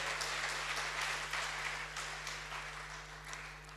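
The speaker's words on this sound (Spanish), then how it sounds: "aplauda al Señor" Faint, steady applause from a church congregation, soft continuous clapping with a low hum underneath, no voices standing out.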